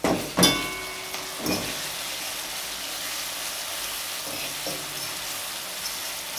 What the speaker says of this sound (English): So you want to saute the seasoning until they look like this